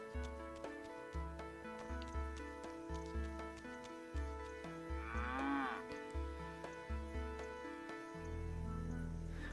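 Cows moo in a farm video game, Milkmaid of the Milky Way: one close, drawn-out moo stands out midway above a bouncy repeating music loop.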